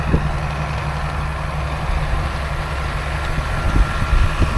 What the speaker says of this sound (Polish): Nie ma strachu, ciągnik sobie dobrze jedzie sam.